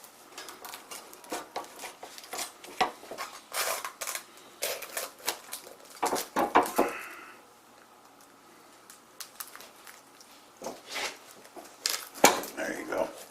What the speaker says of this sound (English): First we'll unstick it from the pan.